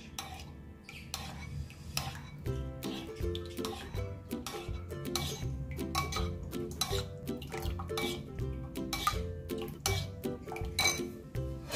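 Ingredients with half a glass of water are stirred in a cooking pan, a steady run of metallic clinks and scrapes of utensil against pan in a loose rhythm, close and fairly quiet.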